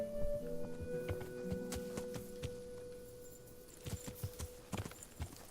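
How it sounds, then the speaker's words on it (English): Horse hooves clip-clop in the medieval action game Kingdom Come Deliverance, a run of sharp, close hoof knocks over a steady background hum and soft tones. "Come here, horsey."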